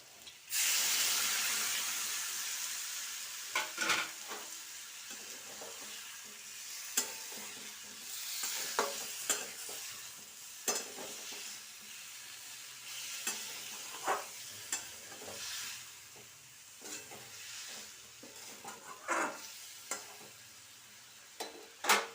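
Soaked spice paste for a vegetarian potato curry (aloo dum) sizzles steadily in a pan, with repeated stirring scrapes and clinks standing out over a continuous hiss, close and fairly loud throughout.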